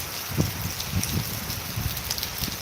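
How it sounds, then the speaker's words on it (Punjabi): Steady rain patters across a surface with scattered louder drops, a continuous wet hiss at moderate distance with no voices. "ਮੀਂਹ ਪੈ ਰਿਹਾ ਪੂਰੇ ਜ਼ੋਰਾਂ ਨਾਲ"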